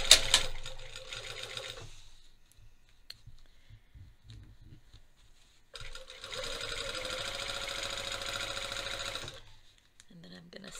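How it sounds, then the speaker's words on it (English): Home sewing machine stitching men's track pants along a line of basting stitches, a brief burst at the start, then a quiet pause with faint handling, then a steady, close, loud run of about four seconds before stopping. "I am going to start sewing right there where my basting stitches start."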